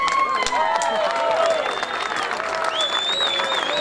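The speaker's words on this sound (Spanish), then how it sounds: "un fuerte aplauso" Festival crowd applauding and cheering a band at an outdoor rock festival in Colonia Teresa, Santa Fe, steady loud clapping with whistles rising over it.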